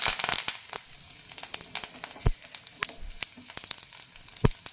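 Green chillies and curry leaves fry in hot oil for a sprouted horse gram bassaru, giving a steady close sizzle with scattered sharp crackles and pops throughout.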